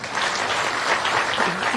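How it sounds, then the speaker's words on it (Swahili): Audience at a live event with President Ruto at Embu University applauds county members of parliament, a steady dense clapping wash throughout with a voice faintly heard underneath. "waheshimiwa wabunge wa kaunti ya hapa, asanteni sana waheshimiwa, tuwapigie makofi"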